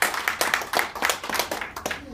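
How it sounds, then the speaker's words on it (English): A small group claps briefly, the hand claps quick and uneven, with a faint voice underneath. "Everybody give themselves a round of applause for coming out tonight"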